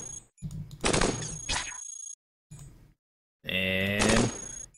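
Gunfire from an assault rifle in the robot roguelike Cogmind, arriving in several loud, sharp bursts split by brief silences, with a harsher, ringing burst near the end.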